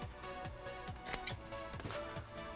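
Scissors cut a fabric strip for an apron in a series of quiet, close, rhythmic snips, about six regular cuts in quick succession.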